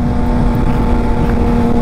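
A Triumph Trident 660 motorcycle with a Zard exhaust and auto-blip shift assist drones loud and close around 5,000 RPM through a downshift, its low exhaust note steady and rumbling.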